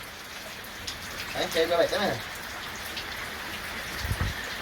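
Rain falling outdoors, a steady soft patter of drops on surfaces throughout, with people speaking briefly over it.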